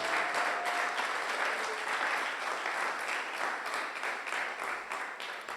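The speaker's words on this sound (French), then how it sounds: "Acclamons très fort pour la gloire de Jésus." Church congregation applauding loudly at a Sunday praise and thanksgiving service, a dense, steady wash of clapping that holds for several seconds without a break.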